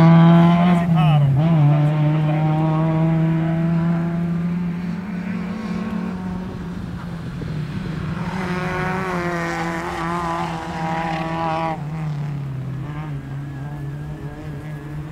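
A BMW E30 turbo race car drones steadily on a track, its engine note holding at a sustained pitch with brief dips and rises as it shifts and pulls, loud and close throughout.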